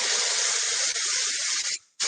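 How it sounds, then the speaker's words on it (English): Finishing hairspray is sprayed onto styled hair in one long, steady close hiss from an aerosol can, then a brief pause and a second burst starting right after. "I'm going to use my finishing spray to do this"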